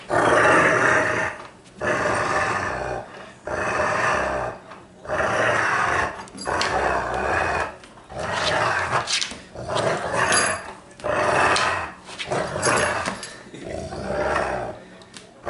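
A Bullmastiff growls hard while tugging on a rope, deep rumbling bursts in a steady rhythm of roughly one every second or so, close and loud, with a man urging it on between growls.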